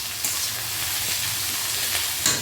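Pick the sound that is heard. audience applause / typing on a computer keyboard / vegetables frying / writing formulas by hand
vegetables frying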